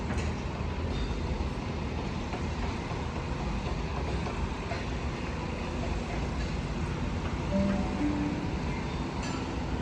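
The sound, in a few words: Sydney V set train arriving at platform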